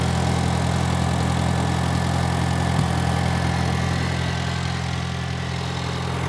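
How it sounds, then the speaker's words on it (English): A 1972 International Cub tractor's 4-cylinder gas engine idles steadily up close, a loud, constant low rumble with a faint click partway through and no talk. "Y'all hear that? That's International Cub."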